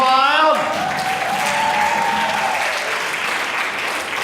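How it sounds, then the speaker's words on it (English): An audience at a variety-show magic act bursts into loud applause after a three-pieces-of-rope trick, the clapping taking over right after a brief voice and holding strong throughout. "and the crowd goes wild."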